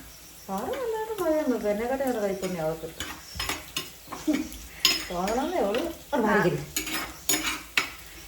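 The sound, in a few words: stirring fish curry masala frying in pan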